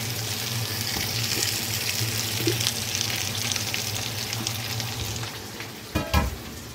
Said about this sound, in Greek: Αυτό το οποίο θέλουμε να κάνουμε είναι να καραμελώσουμε τα κρεμμύδια, να μαραθούν αρχικά και μετά να καραμελώσουν.